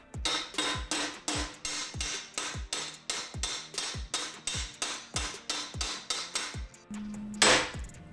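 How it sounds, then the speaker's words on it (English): Metal flange corners being beaten with a hammer for a triple-turbo Honda build, about twenty loud, evenly spaced ringing strikes in a steady rhythm, ending in a brief sustained hum and a harsh burst. "Now we just have to casually beat the corners out of this flange to fit the flange."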